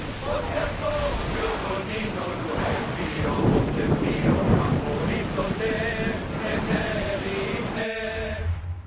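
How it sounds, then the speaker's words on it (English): A thunderstorm at sea in Assassin's Creed Odyssey: rain and wind roar continuously while deep thunder rumbles swell in the middle, with creaking ship sounds and a faint musical tone near the end. "There's a storm ahead!"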